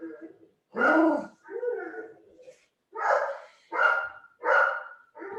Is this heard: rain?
no